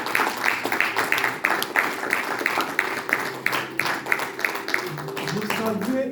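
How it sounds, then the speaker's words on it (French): A church congregation claps together in an even, rhythmic beat, roughly two claps per second, steady and fairly close, with voices sounding under the clapping. "Applaudissons le Seigneur."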